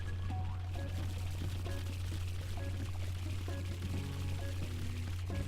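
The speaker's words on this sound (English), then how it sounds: "Wait till the water comes down." Water pouring down in the Super Mario Odyssey level Darker Side of the Moon, a continuous rushing stream layered with game music and a steady low hum, with no break throughout.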